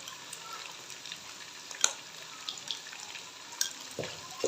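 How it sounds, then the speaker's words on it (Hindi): Beef with added garlic fries in a karahi with a soft, steady sizzle, marked by occasional clinks and scrapes of stirring close by. "तकरीबन 1 मिनट के लिए हम लहसुन के साथ में भूनेंगे इसको।"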